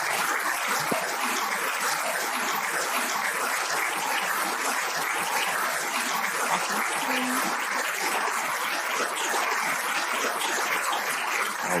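A big round of applause from an audience welcoming a guest, steady and loud clapping that fills the whole stretch without a break.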